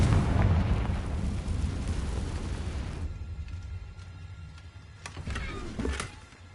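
A Confringo explosive spell goes off in Hogwarts Legacy, a loud, broad rumbling blast that fills the first three seconds and then drops to a quieter low rumble with a few sharp crackles near the end.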